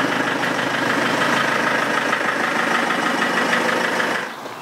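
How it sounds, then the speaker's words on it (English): A car engine idles steadily at close range as the car drives in over a tarmac surface, a continuous even rumble that drops away near the end. "and drive your car in"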